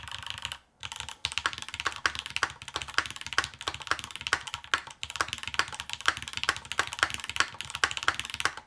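Fast, continuous typing on a solar-powered keyboard with Milky Yellow switches and an aluminum top-mount plate, giving crisp close clacks in a steady stream with only a brief pause near the start.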